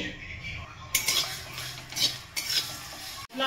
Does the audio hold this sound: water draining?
no